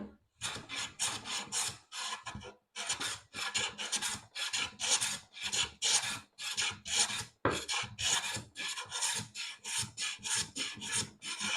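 Scrub plane works across an unusual piece of wood with rapid, rhythmic rasping strokes, over a dozen short close-up shaves in quick succession with brief gaps, no talking.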